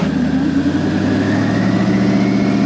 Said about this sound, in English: It's still acting very, very strange on the idle